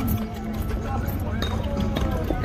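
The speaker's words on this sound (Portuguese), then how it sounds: "castrado, com documento na mão, cavalo andando muito, macio, manso" Horse hooves clopping at a horse fair, a castrated eight-year-old horse walking with a soft gait, irregular thuds under continuous loud talk from people nearby.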